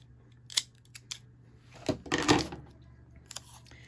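A few crisp scissor snips cutting through Kraft card, spaced irregularly, close by in a quiet room.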